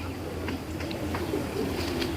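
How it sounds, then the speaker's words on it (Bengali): A strong, restless foreign-breed pigeon coos in low, soft repeated calls close by, over a steady low hum. "হেভি শক্তিশালী ছটফট একটা কবুতর"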